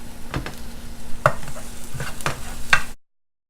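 A spoon stirs spaghetti stir fry with beef, chicken, peppers, basil and parsley in a pan, giving a few close scraping and clattering strokes over a soft steady sizzle, with no talk.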